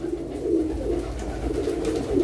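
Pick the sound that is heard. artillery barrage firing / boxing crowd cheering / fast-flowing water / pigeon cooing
pigeon cooing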